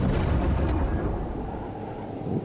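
A torpedo explosion in the underwater video game Diluvion Resubmerged, a deep sustained rumbling roar that fills the clip and slowly eases off.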